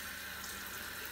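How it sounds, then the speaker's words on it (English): Cold tap water runs over raw skin-on chicken thighs as they are washed, a brief, steady hiss of flowing water with no talking. "We're gonna wash the chicken first. So I'm gonna use cold water."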